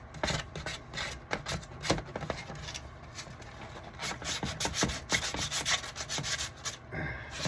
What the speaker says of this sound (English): It's a heavy grit sandpaper.